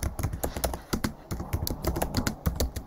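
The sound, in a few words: typing on a computer keyboard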